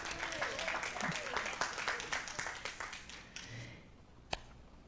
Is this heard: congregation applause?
yes